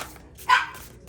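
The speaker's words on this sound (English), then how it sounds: "she can be a little barky" A single short dog bark sounds once, fairly close but not loud, against a quiet indoor background.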